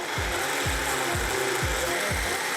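Blender whirring loudly as it blends spinach and juice into a green smoothie, a dense continuous motor roar with a rhythmic low thump repeating about twice a second as the mix churns, no talk.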